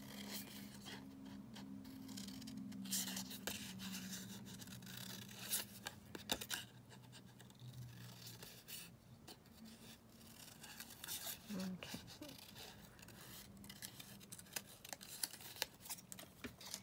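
Scissors cutting paper for vintage photo ephemera crafts, a series of faint, quiet snips and crisp rustling scattered across the stretch with soft handling noises, close by and low in level, with no talk.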